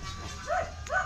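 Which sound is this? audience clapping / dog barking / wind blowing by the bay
dog barking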